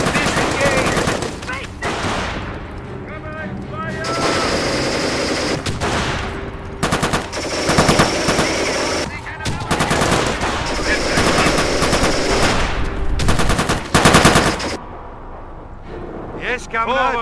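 Bursts of machine-gun fire in a modern combat video game, loud and near, coming in repeated long volleys with short gaps between them, mixed with battle noise and voices talking over the shooting.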